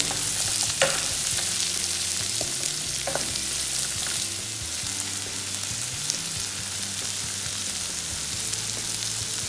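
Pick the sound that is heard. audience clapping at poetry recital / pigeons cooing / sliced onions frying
sliced onions frying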